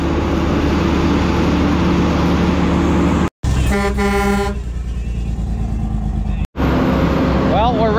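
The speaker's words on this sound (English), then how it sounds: "another truck coming in" A manure truck arriving at a farm pumping site, its engine rumbling steadily before sharp horn toots cut in, then a loud, close air release and a whine as it pulls in.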